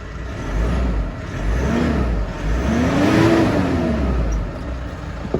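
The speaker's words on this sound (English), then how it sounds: "I'll give it a bit of a rev so you can hear it." A 2017 Mitsubishi Pajero Sport engine revs up and falls back twice from idle, each rise swelling loud and close before dropping away, with no voices over it.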